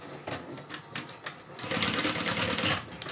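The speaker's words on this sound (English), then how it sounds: "I'm just going to do a little stitch on the corner." A sewing machine running a short stitch across the corner of a denim-style backpack, starting in brief stuttering bursts and then settling into a steady, close mechanical whir.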